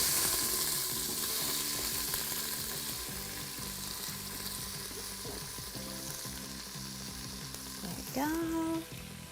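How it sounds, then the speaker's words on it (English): Chopped onion and celery fry in oil and butter inside an Instant Pot, giving a steady, moderately loud sizzle throughout, with a brief clatter of stirring near the end. "I chopped up an onion and then about 3 stalks of celery. So I'm just gonna take this and just put it right into the pot."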